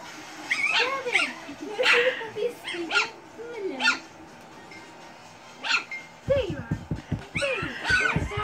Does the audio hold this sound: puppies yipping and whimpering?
yes